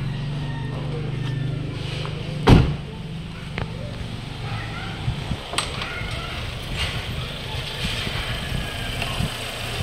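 A Chevrolet Spark engine idles steadily after flushing out oil that had mixed with water, giving a low continuous hum with one sharp knock early on and a few light clicks over it.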